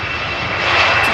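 Jet engines of an Embraer 190 airliner at Amsterdam Schiphol make a brief loud, steady roar that swells slightly toward the end.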